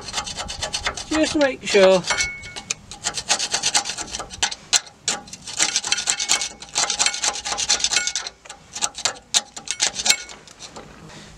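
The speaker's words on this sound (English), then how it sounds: "we'll just give it a little extra scrape" Rough, repeated rasping strokes of a scraper on the rear brake disc of a Land Rover Discovery 300 TDI, fairly loud and close, with a brief spoken remark early on.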